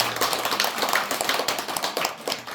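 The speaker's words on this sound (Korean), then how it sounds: "우리 회장님 우리 큰 박수 한번 부탁드립니다" A congregation at a Buddhist temple service claps together in a dense, steady round of applause, lively and close with no voices.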